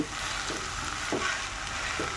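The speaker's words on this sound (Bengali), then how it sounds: "তাহলে আমি চালগুলো ভালো করে ভেজে নিচ্ছি" Rice fries with spices in a pan for prawn pulao, giving a continuous close sizzle broken by a few soft scrapes of stirring.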